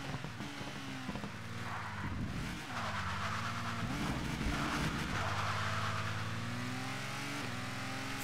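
A Ginetta Junior race car engine in ToCA Race Driver 2 revs loudly and steadily, the pitch rising and dipping through gear changes and corners, with tire noise alongside and no talking.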